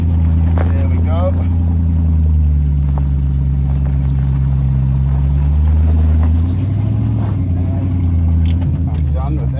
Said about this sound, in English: Revving it up again.